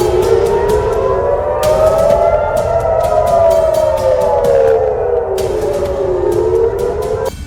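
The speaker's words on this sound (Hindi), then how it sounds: "इससे पहले मिसाइल या रॉकेट अटैक वाला सायरन भी बजा।" An air raid siren warning of a missile or rocket attack in Haifa, Israel, a loud steady wail rising and falling slowly throughout, with sharp clicks or taps dotted over it.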